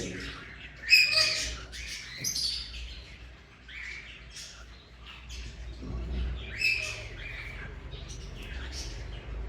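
Breeder pigeons kept as pet birds call in short chirps and coos at moderate distance, scattered irregularly over a low hum while someone talks.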